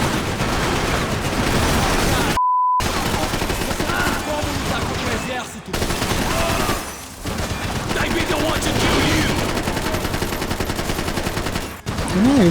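Rapid bursts of gunfire from the Max Payne 3 video game, loud and sustained across the whole stretch with a short silent gap, layered with game effects and background sound.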